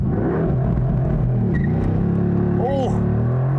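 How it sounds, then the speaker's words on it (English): A 2020 Mercedes-AMG GT R Roadster with a front engine launches hard under launch control: a loud, continuous low engine roar builds steadily, with a brief tire chirp near the end. "Let's try the launch control one more time."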